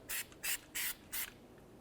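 Four short, evenly spaced hisses of copper anti-seize sprayed onto the back of a brake rotor on a 2004-2015 Nissan Titan, close and crisp with quiet gaps between bursts.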